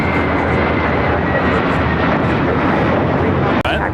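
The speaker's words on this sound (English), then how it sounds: "JetBlue Airways Flight 2010 taking off to West Palm Beach." A JetBlue Airways jet takes off at LAX, bound for West Palm Beach, its engines giving a loud, steady, broadband roar that holds throughout with no talk over it.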